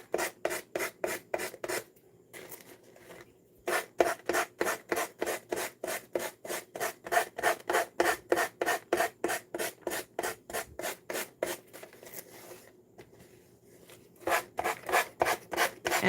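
Hand sanding of a decoupage craft piece with sandpaper, close up and alone: rapid regular back-and-forth rasping strokes in steady bursts, with a couple of short pauses between runs.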